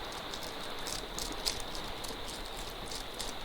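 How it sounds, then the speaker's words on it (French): Rain falls outside as a soft, steady patter with faint hiss and occasional drips, fairly quiet and continuous throughout. "il y a un petit peu de bruit à l'extérieur dû à la pluie"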